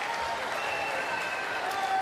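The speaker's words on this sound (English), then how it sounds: "They're cheering with the crowd, which they love." At a para table tennis standing doubles match in Paris, a crowd applauds and cheers in a steady, moderately distant wash of clapping, with a commentator's voice over it.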